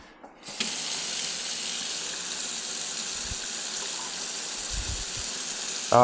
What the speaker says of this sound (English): turn the tap on, that way you release the pressure and a little bit less water might come out